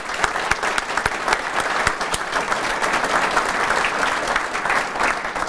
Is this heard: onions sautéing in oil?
no